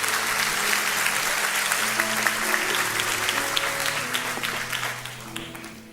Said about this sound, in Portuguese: Dê um melhor aplauso, por favor, Senhor.